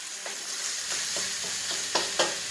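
Hamburger and pork chorizo fry in a pan with a steady, close sizzle, as a spatula stirs and scrapes in repeated strokes.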